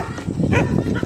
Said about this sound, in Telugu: చూసారా, కుక్క కూడా ఇంకా అరుస్తుంది